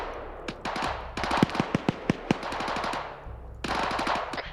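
Rapid bursts of automatic gunfire in a military video game crackle in sharp, irregular volleys, some shots echoing, with a steady background hum between bursts.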